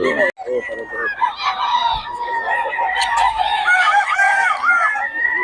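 A rooster crows repeatedly at close range, loud harmonic calls following one another, with some background voices and farmyard noise.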